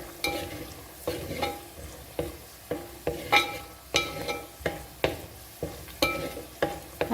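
Peanuts fry in oil in a pan for chicken dum biryani, a steady sizzle broken by regular spoon-stirring scrapes roughly every half second, close and fairly loud, with no voices.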